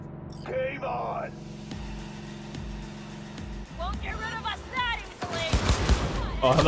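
Shotgun blasts and gunfire in the video game Cyberpunk 2077, a burst of loud rapid shots late in the clip over a dark in-game scene with a low engine-like hum, with a person talking over it.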